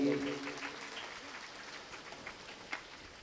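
Clapping from the audience at a Shrimad Bhagwat Katha religious discourse gathering, a broad rain-like patter that starts moderately and fades to a thin, faint scatter over a few seconds.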